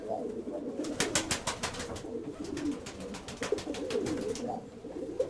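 Grigorov pigeons, a newly arrived pair settling in, coo steadily and up close, with rapid wing-flapping bursts breaking in repeatedly and no voices.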